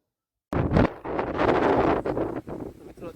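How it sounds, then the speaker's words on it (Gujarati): Strong gusts of wind ahead of rain in a village, loud rushing buffets hitting the microphone in waves, with a voice talking over them. "મિત્રો અત્યારે ફૂલ પવન અને વરસાદ આવે એવું વાતાવરણ થઈ ગયું છે"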